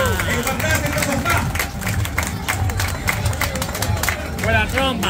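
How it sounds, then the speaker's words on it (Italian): A large outdoor crowd at a Christmas tree lighting event in Turriaco, Italy, where the tree is lit by pedalling bicycles, claps and cheers loudly and continuously, with a hubbub of voices mixed into the applause. "Accogliamo con un grande applauso Andrea Baldo!"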